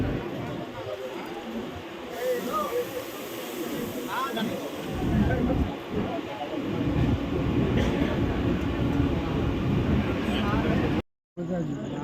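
A passenger train runs from Bardhaman toward Rampurhat with a steady, loud rumble and rattle of carriages heard from inside, continuous for about eleven seconds before a brief dropout, with voices murmuring faintly beneath.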